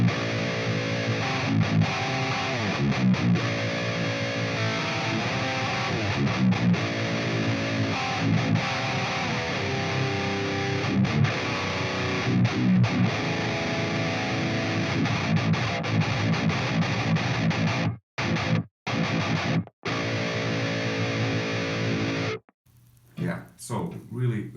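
Heavily distorted, fuzzy electric guitar through an STL Tones Tonality Will Putney amp plugin, playing dense aggressive riffs continuously at loud level, with abrupt stops and stabs near the end.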